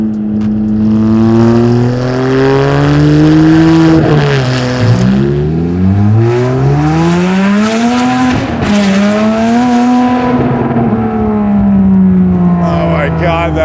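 A custom Ferrari 612 with a V12 engine revs hard and close, its loud pitch rising and falling through repeated sweeps, with brief shouts of excitement over the roar.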